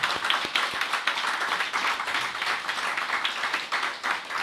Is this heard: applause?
yes